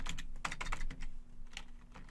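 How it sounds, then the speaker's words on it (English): Quick bursts of keystrokes on a computer keyboard, a few close clicks then a short pause and more taps, with no one speaking over them. "So we're going to type options"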